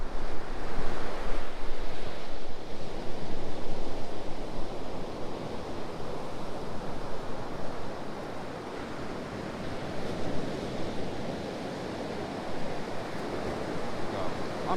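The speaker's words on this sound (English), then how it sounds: "I'm sure it's just waves." Waves break on the shore at Kilnsea on the UK east coast in a steady, loud surf roar with gusting wind buffeting the microphone, continuous and without voices.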